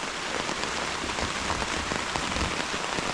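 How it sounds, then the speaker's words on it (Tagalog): Heavy rain pours at a campsite on a farm in Tarlac, a dense, loud and steady hiss of drops striking surfaces that holds without a break, with no voices. "Lumalakas pa yung ulan."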